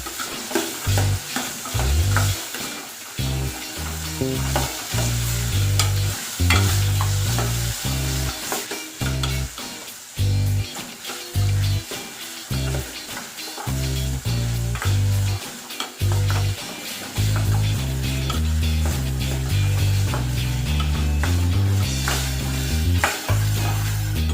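Bitter gourd sautéing with salt in a pan, a loud continuous sizzle broken by repeated rhythmic stirring scrapes of the spatula, with no voices throughout.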